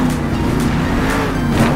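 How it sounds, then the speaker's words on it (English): Engine roar of a monster truck in the Monster Jam Steel Titans video game during a Toronto freestyle run, a loud continuous motor drone with slight surges as the truck flips repeatedly, no talk. "Flipping that truck over and over again."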